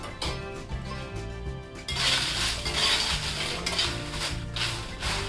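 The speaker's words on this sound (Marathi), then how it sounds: "आता आपण मिरच्या भाजून घेऊया त्यासाठी मी एक मोठी दुसरी कढई घेतलेली आहे यामध्ये थोडस तेल घालते" Steady sizzling and crackling of Byadgi chillies roasting in a little oil in a large kadhai, with occasional stirring clinks and a low mechanical hum underneath.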